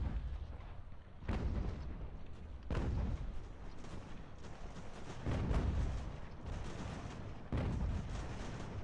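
Artillery volleys in Ultimate General: American Revolution, an eighteenth-century battle: four heavy booming discharges spaced a couple of seconds apart, each with a rolling rumble that fades into a low battlefield din, no voices.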